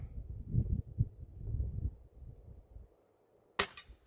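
A Weihrauch HW air pistol shot strikes an old tin, a single sharp metallic crack with a short ringing tail, following low muffled handling sounds and a moment of near silence.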